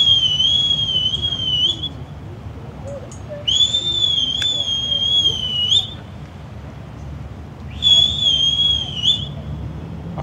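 The horn of the cruise ship AIDAperla sounds at sail away from Hamburg in three long, steady high-pitched blasts with pauses between them, over a constant low rumble of background noise.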